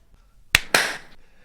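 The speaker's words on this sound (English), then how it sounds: "I loved your clap. You nailed it." Two sharp hand claps come in quick succession, the second followed by a brief ringing tail in a quiet room.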